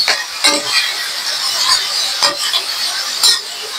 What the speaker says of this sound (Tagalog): Kailangan mo na medyo igisa ng mantika yung ating chicken para di siya malabsa.